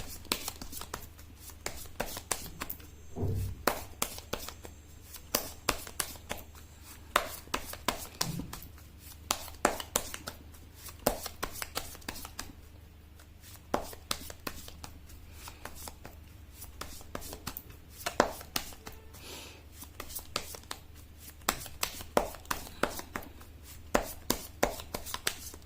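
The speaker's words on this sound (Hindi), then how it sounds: "मैं कर लेती हूँ कार्ड की शफलिंग।" Tarot cards shuffled by hand at a Hindi tarot reading, a close series of soft riffling rubs and light taps repeating steadily with brief pauses and no talking.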